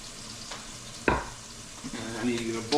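Beef cubes sear in a hot pot for stew, a soft steady sizzle with a sharp clatter of stirring partway through, close and fairly quiet.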